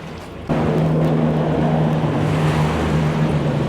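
Boat wake waves wash up onto a muddy river shore along the Thames in London at low tide, a steady broad rushing surge with a low engine-like hum underneath, continuous and fairly loud throughout.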